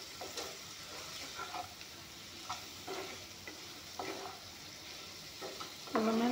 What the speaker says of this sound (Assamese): পনীৰখিনি অলপমান ভাজি ল'ম।